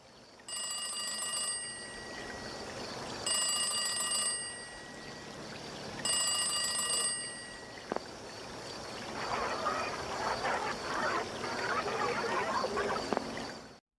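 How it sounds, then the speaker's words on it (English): A telephone rings on the Inkblot stage during a Splatfest in the Splatoon video game: three bright, electronic ringing bursts with short gaps between them, followed by a busier, fluttering game ambience once the ringing stops. "the phone's on Inkblot can ring during a Splatfest."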